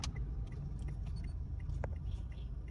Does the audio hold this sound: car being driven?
yes